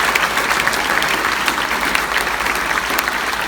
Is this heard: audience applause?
yes